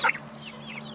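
Chickens fed fermented feed give a short burst of close clucking at the start, then a quieter steady farmyard background with a faint hum.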